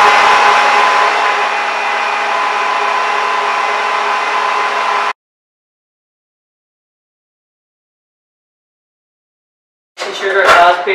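Electric mixer beating butter and icing sugar, a loud steady whirring for about five seconds that cuts off to silence, then a brief burst of clattering at the end.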